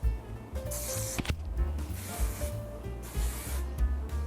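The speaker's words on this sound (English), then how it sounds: "I'm just gonna use some shine spray to revive it a bit" A few short hissing bursts of hair shine spray, spaced about a second apart, close up, with light rubbing sounds between them.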